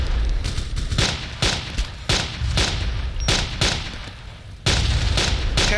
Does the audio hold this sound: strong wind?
no